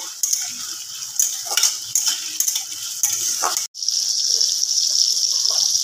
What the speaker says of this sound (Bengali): এবারে আলুটা দিয়ে ভালোভাবে একটু নাড়াচাড়া করে দেওয়া হচ্ছে।